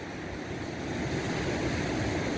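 Sea surf rolling onto a beach at a surfcasting fishing spot, a soft continuous wash of breaking waves with a slowly building roar, faint and distant under light wind.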